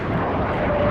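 A loud, steady rushing roar, like a low jet sweeping overhead, fills the whole moment with no voices: a napalm strike in the video game Rising Storm 2: Vietnam.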